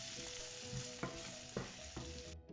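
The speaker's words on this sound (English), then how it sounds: "I will saute them a little bit." Onions and green peas sauté in a pan, a steady broadband sizzle with a few sharp scraping stirs of a spoon against the metal, close and moderately loud, no talking.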